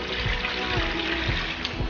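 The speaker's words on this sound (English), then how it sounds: "I'm going to add about a cup of water here and I'm going to pour it in the pot" About a cup of water pours into a stew pot for Jamaican stewed beef, a short continuous trickle and splash heard close up with a faint rhythmic background.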